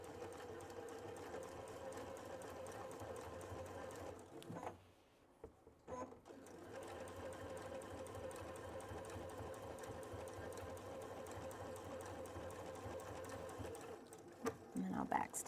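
Baby Lock sewing machine stitching a French seam on a tote bag, a fast steady mechanical whir with a brief pause midway before stitching resumes, a voice talking over it.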